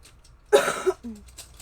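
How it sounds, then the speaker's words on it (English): A short cough burst up close, a couple of harsh rasping pulses followed by a faint breathy sound. "still trying to kind of get over the whole coughing fits that I was going through"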